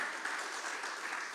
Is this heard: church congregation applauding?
yes